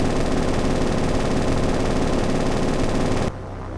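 B-25 Mitchell .50-calibre machine guns strafing in the naval combat game War on the Sea, a loud, dense, unbroken roar of rapid fire that cuts off abruptly near the end, leaving faint background rumble.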